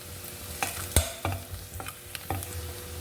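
Spices such as chilli powder and turmeric stir-fried in a pan while making a small-tuber (sirukilangu) poriyal, with a low steady sizzle broken by several sharp scraping clinks of a spoon or spatula against the pan.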